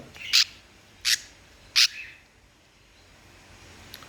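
Crested budgerigars at a bird farm at night give three short, loud, shrill calls about a second apart, followed by near quiet.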